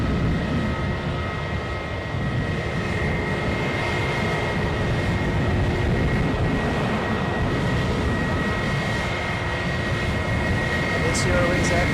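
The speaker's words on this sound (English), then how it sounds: "we also have the Eurowings aircraft DAGWM, who is joining the queue" A Eurowings jet taxis at Edinburgh airport while joining the departure queue, a continuous broad engine rumble with a steady high whine holding level throughout.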